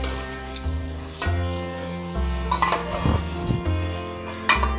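Metal utensil scraping and knocking against a pan while egg yolk is stirred into a simmering egg gravy, with soft sizzling; several close clinks and scrapes come at irregular intervals, and nobody speaks.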